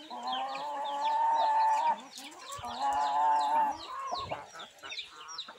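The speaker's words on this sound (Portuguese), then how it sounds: "Aqui tá minhas botadeiras, tudo galinha botadeira boa." Laying hens on a small rural farm, clucking and making drawn-out cackling calls in two long bouts, close by, with softer clucks and peeps from other birds around them and no talk.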